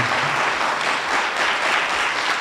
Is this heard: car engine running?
no